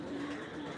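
Pigeons at a bird seller's pen cooing softly under a constant wash of background noise, a brief low murmur with no talk.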